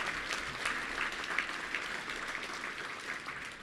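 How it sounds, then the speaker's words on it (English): Faint, distant applause from a touchdown club luncheon audience in Little Rock, a soft steady patter of clapping with a few sharper claps standing out. "Let's give a big round of applause to them"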